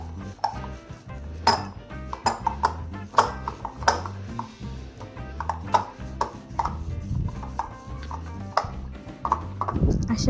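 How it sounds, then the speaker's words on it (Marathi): Ragi flour dough worked with ghee in a bowl by hand, giving close, steady, rhythmic knocks and light clinks against the bowl for about ten seconds, with no talking. "ते व्यवस्थित असं तूप लावून तिंबून ठेवायचं आहे"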